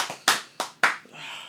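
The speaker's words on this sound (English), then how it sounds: "Let's get a round of applause." Three sharp, loud handclaps spaced evenly apart, greeting a guest on a football podcast, followed by a faint hiss of room noise.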